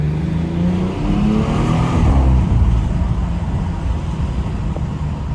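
A BMW 340i xDrive in Sport Plus mode accelerates on a rainy city street at night, with the engine note swelling then easing back to a steady cabin drone and tire hiss, no voices.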